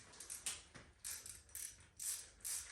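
A torque wrench ratchets in quick, faint clicking bursts while tightening small bolts on a Yugo/Fiat 1300cc engine rebuild, several short ratchet strokes spaced about half a second apart.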